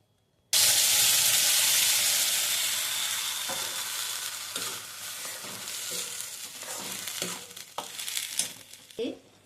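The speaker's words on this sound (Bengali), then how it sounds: "তেল দিলাম কড়াইতে, তেল দিয়ে এর মধ্যে এই সসটা যে বানিয়েছিলাম, পেস্টটা এতে দিয়ে দিলাম" Schezwan sauce paste dropped into hot oil in a wok bursts into a loud, close sizzle that gradually eases, with stirring scrapes and soft clanks breaking through toward the end.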